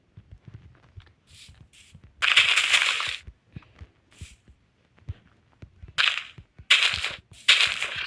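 Minecraft explosions from detonated TNT go off in sharp bursts, a few loud blasts spaced among quieter clicks and thuds of game activity.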